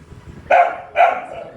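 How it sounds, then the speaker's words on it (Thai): A dog barks twice, loud and close, two sharp separate barks about half a second apart over a quiet background. "อย่าไปเห่าใส่หูมัน"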